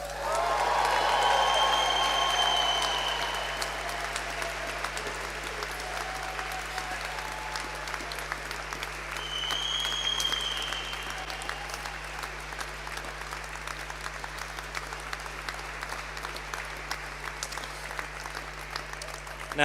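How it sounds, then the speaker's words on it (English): A large graduation audience applauds and cheers for a graduate, sustained dense clapping that swells early, then settles into a steady roar with a few whoops mixed in, lasting a long stretch. "I know he will love it if you whoop and cheer him"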